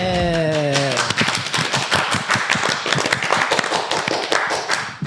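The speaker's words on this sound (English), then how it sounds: "Everybody clap." A few people clapping in a small podcast studio, individual hand claps clearly distinct and close, starting after a brief spoken line and continuing unevenly for several seconds.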